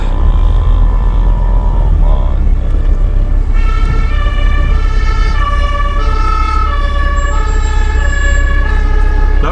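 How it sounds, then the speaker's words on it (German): Ambulances pass during a New Year's Eve scene in Germany, loud wailing two-tone sirens rising and overlapping over heavy, rumbling traffic noise, close and continuous throughout. "Jetzt kommen die Rettungswagen hier durch."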